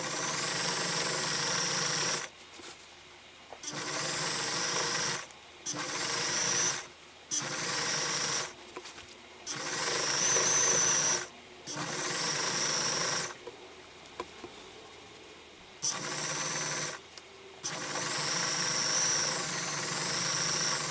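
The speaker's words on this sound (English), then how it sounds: "your sewing machine does not particularly want to sew" A sewing machine motor hums in repeated bursts of several seconds each while sewing a bulky canning mat, starting and stopping with short quiet gaps between runs.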